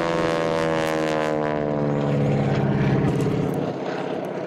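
Propeller aerobatic aircraft performing at an airshow, its engine a loud, steady droning roar with shifting pitch as it pulls through tight vertical manoeuvres, heard continuously and fairly near.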